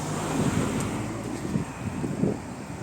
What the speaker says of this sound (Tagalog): Yan ang ating weather ngayon. Mainit pero mahangin.